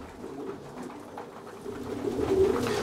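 Racing pigeons coo softly and repeatedly while feeding in a loft, low murmuring calls close by that grow a little louder toward the end, with no talking.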